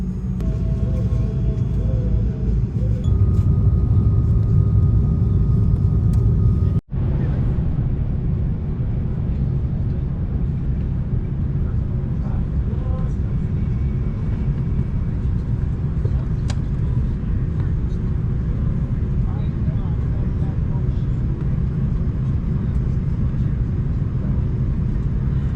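Steady low engine rumble and air-system hiss fill the cabin of a Hawaiian Airlines Airbus A330-200 before takeoff, loud and continuous, with a brief dropout partway through and faint announcement-like talk in the background.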